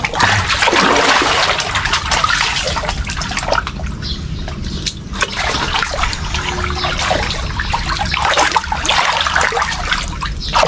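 Cold water splashing and trickling steadily during an outdoor bath, a continuous wet spattering that stays loud and close for the whole stretch with brief lulls, while a person's voice is faintly heard beneath it.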